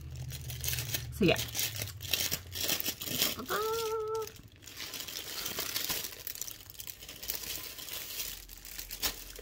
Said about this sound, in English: There's gonna be lots of crinkling because I haven't opened them yet.